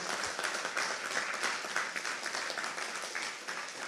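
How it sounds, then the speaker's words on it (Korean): A church congregation at an evening revival service claps together in sustained, dense applause, steady and fairly loud throughout with no voices standing out. "우리 박수로 하나님께 영광 올리겠습니다."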